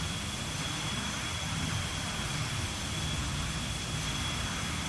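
Jet engines of a BAe 146 roar at takeoff thrust in X-Plane 11, a steady, loud broadband rumble with a faint high whine over the whole stretch.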